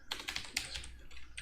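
Quick bursts of keystrokes on a computer keyboard, close and fairly quiet, tapping in an uneven rhythm for about a second and a half with no voices.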